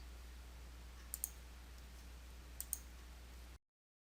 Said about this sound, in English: click the Manage Transactions drop-down button towards the lower left corner of the window